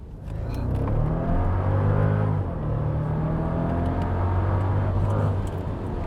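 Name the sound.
Mercedes SL55 AMG engine accelerating while driving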